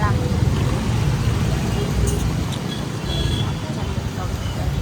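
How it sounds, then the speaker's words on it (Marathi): Heavy road traffic rolls through Lonavala in the rain, a dense, continuous wash of passing vehicles close by, with a voice faintly present. "इधर इतना ट्रॅफिक आहे, देखो देखो देखो."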